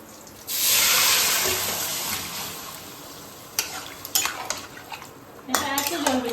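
A wok of mutton gravy for biryani is set back on the stove to reduce. A loud whoosh of bubbling opens the stretch, then a metal spoon scrapes and knocks against the pot several times, close by and with no talk.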